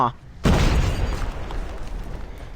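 A loud in-game explosion in Call of Duty Mobile bursts in suddenly and rumbles on as a broad, sustained roar with a long decaying tail, following a brief moment of voice.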